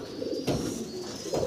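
A breeding pair of pigeons coos softly in low, rolling throaty phrases, with a couple of louder swells, close by and with no talking.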